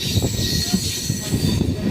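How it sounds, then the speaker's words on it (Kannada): A train arriving towards Yelahanka rumbles steadily with wheels squealing on the rails, heard from on board at close range, a continuous dense roar. "ಟ್ರೈನ್ ಈಗ ಯಲಾಂಕಾಗೆ ಬರ್ತಾ ಇದೆ"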